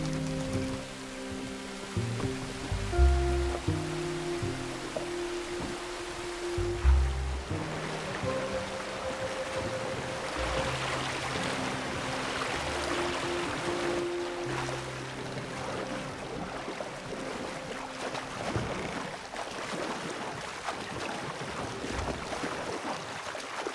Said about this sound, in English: Creek up ahead.